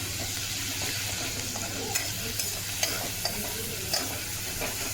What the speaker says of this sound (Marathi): कोथमिरी लसूण टाकली फोडणीला